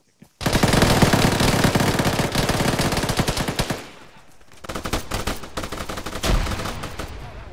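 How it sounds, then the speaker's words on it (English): Sustained automatic machine-gun bursts in a military video game, loud and close, with rapid rattling fire for several seconds, a short lull, then more bursts resuming. "there are friendlies shooting up that bunker"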